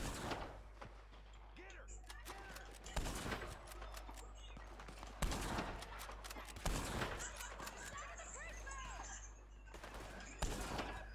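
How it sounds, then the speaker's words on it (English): Gunfire in the Red Dead Redemption 2 video game: several loud, sharp shots spaced a few seconds apart over a steady outdoor background, with occasional voices. "Where are them shots coming from?"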